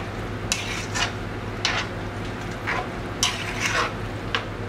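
A spoon stirs a quinoa enchilada mixture with black beans and green chiles in a pan, repeating roughly eight close scraping strokes in an even rhythm over a low steady hum.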